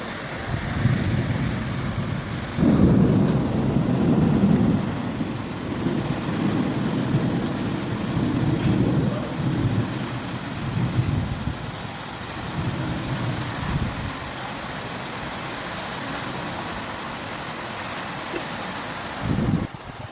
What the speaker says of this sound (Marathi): पाणी पाऊस कसा चालू आहे आणि खूप चालू आहे